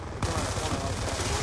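Gunfire in Black Ops 2 multiplayer, a burst of rapid automatic shots crackling over dense battle noise, sudden onset then sustained and loud.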